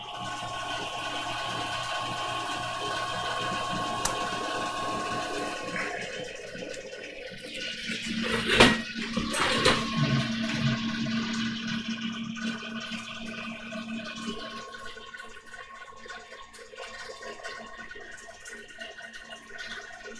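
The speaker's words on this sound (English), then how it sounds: "there's the vacuum pumps in the background are running" Vacuum pumps of a scanning electron microscope run steadily in the background, a continuous mechanical hum and hiss with a brief louder bump midway, no talking.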